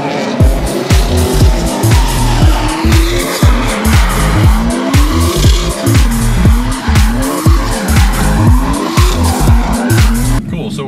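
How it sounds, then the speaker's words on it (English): Cars drift around a small track with tires skidding and squealing in long repeated bursts, engines revving and bouncing off the limiter in a steady rhythm, loud and close. "They're literally drifting 15 feet away from me."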